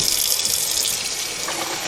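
Water pours steadily into plastic bottles from a tap, a continuous close hiss and gush of filling with no pauses and no voices, for a homemade pet puddle cleaner.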